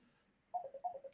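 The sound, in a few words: phone ringing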